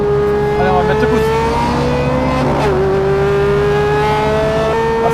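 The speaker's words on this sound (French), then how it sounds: "le son du 4 cylindres en V, c'est un truc de fou" Smart Roadster Brabus coupé engine revving hard under acceleration, a loud, steady engine drone with pitch shifts from gear changes, heard from inside the car with some talk over it.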